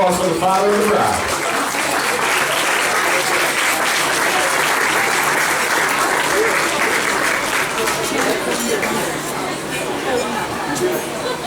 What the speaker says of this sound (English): How about a round of applause for the father of the bride?